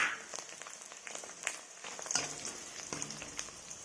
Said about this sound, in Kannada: ಮೆಣಸಿನಕಾಯಿಯನ್ನು ಈ ಥರ ಫ್ರೈ ಮಾಡಿಕೊಳ್ಳಿ.